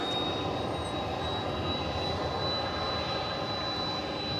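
An airplane engine revs up at DFW Airport at night, roaring steadily with a broad, continuous rush and a thin high whine running through it, heard from a distance.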